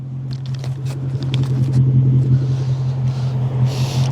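A deep Jaguar V8 with a new exhaust rumbles loudly at idle nearby, a steady low burble with a light blip of revs, no voices.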